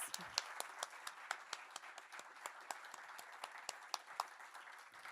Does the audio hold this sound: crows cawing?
no